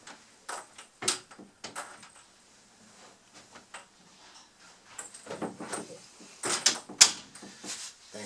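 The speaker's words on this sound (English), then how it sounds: "So now when I open and close the door, the squeak is gone." A door with newly fixed hinges opens and closes without squeaking, leaving scattered soft clicks, knocks and a latch snap, some of them loud and close, with a few quiet sounds of movement in between.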